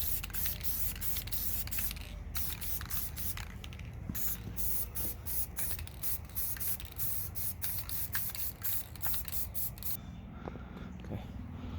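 Spray paint is applied as a second coat on a 1:10 RC crawler Jeep Wrangler body, heard as close, loud hissing bursts in quick succession with brief gaps and faint clicks from the nozzle.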